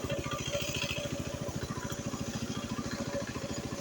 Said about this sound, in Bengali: আমাদের বাড়ির পাশেই ছোট পুকুরে খটখটি মেশিন লাগিয়েছে। খটখট আওয়াজ।